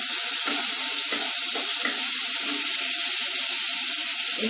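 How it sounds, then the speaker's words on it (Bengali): Water poured into frying masala in a pan on low gas, producing a steady crackling sizzle with bubbling and hissing throughout. "অল্প একটু জল দিলাম"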